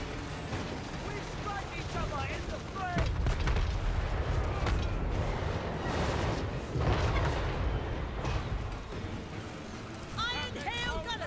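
Massed artillery fire in a Total War: Warhammer battle against greenskins, dense repeated booms and crackling impacts rolling continuously, loud and busy throughout, with game voices and shouts layered on top.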